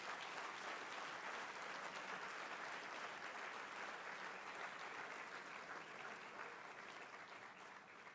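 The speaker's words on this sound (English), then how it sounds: "Loud round of applause for that Shahid." Sustained applause from an awards ceremony audience honouring a police official, a dense even roar of many hands that carries steadily for several seconds before tapering off slightly at the end.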